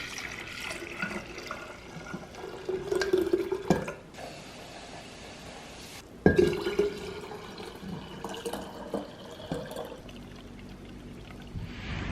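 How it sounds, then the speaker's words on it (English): Tea concentrate poured from a container into a glass pitcher, heard as two separate bursts of liquid splashing and trickling, fairly faint against a quiet outdoor background. "So now I'm just going to pour this concentrate into my glass pitcher, and then we'll top it up with water."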